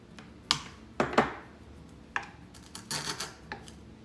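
Lavender and lilac stems being cut for a farmhouse craft: a handful of crisp, separate snips and clicks close by, spaced irregularly over a few seconds in a quiet room.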